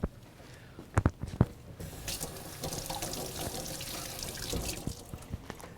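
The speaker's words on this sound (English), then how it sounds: "It's not an organic lemon, so I want to wash it first" Running tap water splashing over a non-organic lemon being washed at a kitchen sink, a steady close hiss of flowing water after a few sharp knocks at the start.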